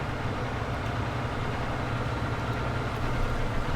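Small Deutz tractor engine in Farming Simulator 19 droning steadily under load, a constant low rumbling hum with no pauses, fairly close.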